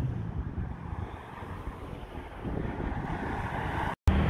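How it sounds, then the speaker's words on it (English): Wind blowing outdoors on a chilly walk along a city boulevard, a steady broadband rush buffeting the microphone with a brief dropout near the end. "Wind kicked up."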